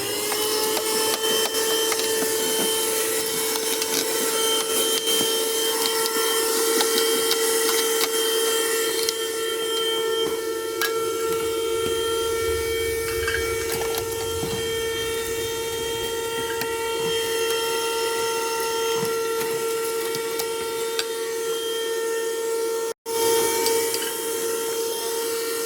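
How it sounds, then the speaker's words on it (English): A battery-powered vacuum cleaner runs continuously inside a hybrid vacation house, car and boat, a steady motor whine with a constant hum that drops out for a moment near the end. "Okay, so now I'm gonna vacuum all the mess I made."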